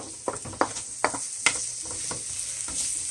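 Onions and garlic sweat in a pan with a soft, continuous sizzle, broken by a few close scraping stirs.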